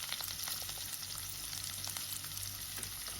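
Chopped onion, garlic and curry leaves frying in hot oil in a pan for North Karnataka jhunka, a steady dense sizzle that stays loud and even throughout with no talk.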